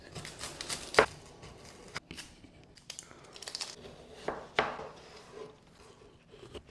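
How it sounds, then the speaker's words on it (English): Irregular, fairly quiet knife chops on a cutting board dicing an onion, a few sharper thuds among softer crinkly taps and scrapes. "we're just finally chopping up this onion a little bit more"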